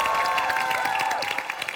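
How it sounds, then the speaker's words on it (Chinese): Studio audience applause on a Chinese debate show, a short burst of clapping and crowd noise mixed with a sliding musical sting, steady and fairly loud throughout. "掌声给他"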